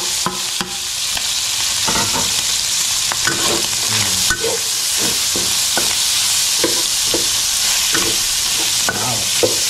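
Onion and garlic sizzle loudly and continuously in a hot pan, with a spatula repeatedly scraping and stirring through the steady frying hiss.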